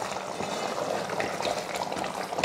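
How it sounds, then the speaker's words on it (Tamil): Tamarind kuzhambu with tubers bubbles gently in a covered pot, making a steady, soft simmering hiss and patter with faint crackles throughout. "குழம்பு ஒரு 10 நிமிஷத்துக்கு வேக வச்சாச்சு."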